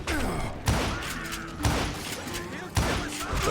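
Three heavy gunshots from Call of Juarez: Gunslinger boom out at roughly one-second intervals over a noisy, busy game soundscape.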